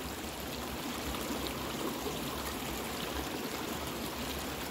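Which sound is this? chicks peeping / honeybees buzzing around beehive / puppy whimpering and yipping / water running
water running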